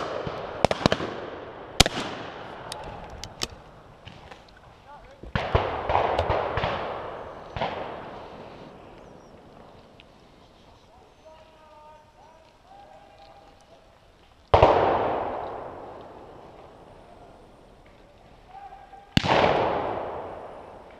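Shotguns fire at a driven pheasant shoot outdoors, loud booming reports with long rolling echoes: a quick volley of several shots at the start, more around the middle, then two single blasts spaced apart later.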